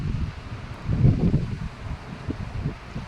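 Sea wind blowing at a beach, a steady low rumbling gust against the microphone with rustling texture, rising to a stronger buffet midway and then settling, no voices.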